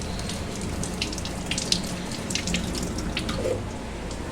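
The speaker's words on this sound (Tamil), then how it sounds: "ஒரு தக்காளி இப்போ அதையும் கழுவ போகிறோம்" A tomato washed under a running kitchen tap, with a steady close rush of water and light splashing and dripping as it is turned in the stream, and no talk.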